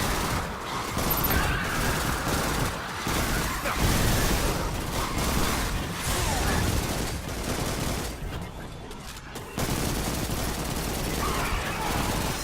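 Destiny video game weapons, a Recluse submachine gun and Gnawing Hunger auto rifle in a PvE fight against an elite phalanx, fire dense continuous automatic bursts with explosions and combat noise throughout, loud and unbroken.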